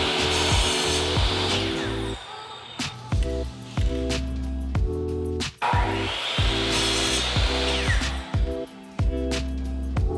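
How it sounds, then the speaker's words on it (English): A miter saw makes a series of 45 degree cuts in MDF, each a loud burst of motor whir and blade bite, with brief dips and sharp knocks between cuts in a busy, close-up workshop. "my design consisted of mainly 45 degree cuts using a miter saw"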